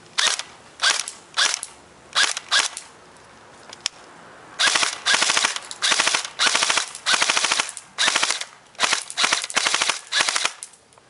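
G&G Combat Machine M4 airsoft rifle with blowback firing in rapid mechanical bursts, sharp clattering cycles at first, then longer sustained strings of shots with brief gaps, close and loud.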